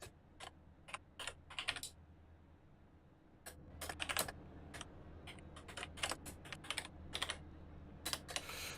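Someone types on a computer keyboard during an iRacing sim race, with bursts of quick, close clicking separated by short pauses over a low steady hum.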